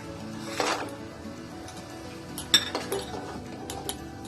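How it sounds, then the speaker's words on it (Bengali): A utensil scrapes and clinks lightly against a pan as boiled star fruit chutney sweetened with batasa is stirred. The sound is quiet and close, with a few sharper metallic taps among soft stirring. "আমি কামরাঙাগুলো এইভাবে মিশিয়ে নেব ভালো করে।"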